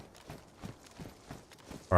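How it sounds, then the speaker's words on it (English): Video game footsteps crunch through snow in a steady, evenly spaced walking rhythm at moderate distance, ending with a sudden loud burst. "Or I heard snow footsteps anyway."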